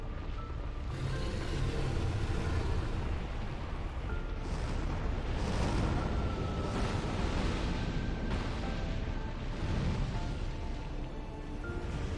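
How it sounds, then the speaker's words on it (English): A rumbling explosion rolls on in Dark Souls 2: Scholar of the First Sin during a final boss fight. It is a dense, sustained roar with repeated booming swells over dramatic background sound, lasting about twelve seconds. "That explosion does a shit ton of damage, though."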